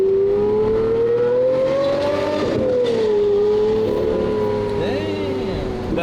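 A sports car's exhaust revs and drones close by, pitch rising then settling as the engine pulls, with faint tire or road noise and no speech over it.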